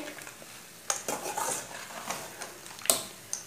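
A spoon scrapes and clinks around a pan as roasted cashews, cardamom and grated coconut are mixed into makhandi halwa, with a few sharp metallic knocks over a soft background.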